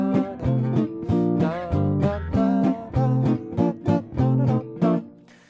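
Jazz guitar comping through a rhythm-changes pattern of I–vi–ii–V chords, about a dozen short, punchy chord stabs in a steady swinging pulse, close and solo with no voice.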